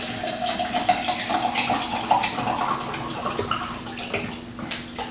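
Water runs steadily into a 20-ounce cup, a continuous splashing stream with a faint hum beneath, no voices.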